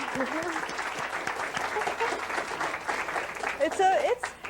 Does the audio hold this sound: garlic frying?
no